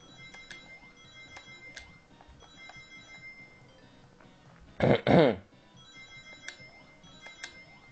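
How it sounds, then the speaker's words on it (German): A short notification chime bursts out once, loud and sudden, over quiet ticking background music from Sonic 3D Blast on the PS3. "Blöde Benachrichtigung."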